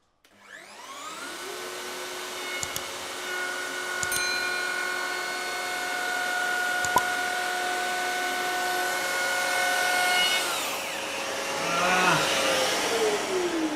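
A wood router (défonceuse) spins up and cuts into wood as a loud, steady high-pitched whine that holds for about ten seconds, then winds down with a falling tone near the end.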